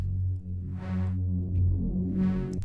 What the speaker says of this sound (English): we're adding a ton of distortion before it. So it makes it really rumbly.